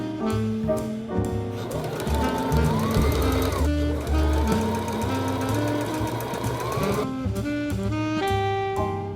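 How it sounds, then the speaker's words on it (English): A sewing machine running a straight seam along a strip of cushion fabric, its motor whirring in steady bursts with short pauses between runs, close and fairly loud with no talking. "I'm going to just run a seam down all 4 of these"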